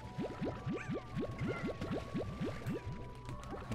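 Water being collected in the video game Slime Rancher: a rapid series of about fourteen bubbly rising gulps, evenly spaced like liquid being sucked up, over a faint steady electronic hum.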